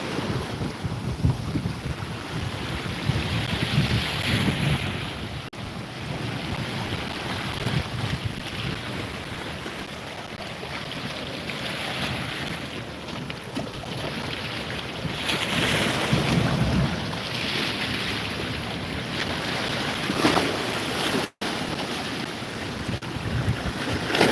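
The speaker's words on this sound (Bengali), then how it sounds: "দেখতে পাচ্ছেন প্রচুর বৃষ্টি হচ্ছে" Heavy rain driven by strong wind roars steadily, with broad rushing noise and wind buffeting the microphone, swelling and easing in waves with no voices.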